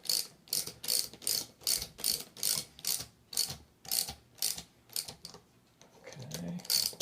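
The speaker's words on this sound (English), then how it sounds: "we'll tighten these nuts down until the nut just contacts the washer" Ratchet tightening the nuts on a Pearson pump during seal replacement, a loud, close, steady run of about a dozen evenly spaced clicking pulls, then a brief pause and a lower scraping sound, with no talk.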